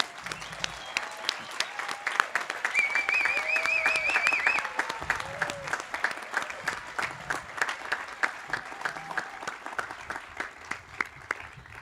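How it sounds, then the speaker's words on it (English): Audience applause for graduates at a 2020 high school graduation ceremony, steady clapping that builds and then thins into scattered, rhythmic claps, with whoops and cheers rising over it early on. "All right, let's get another big round of applause for the graduates."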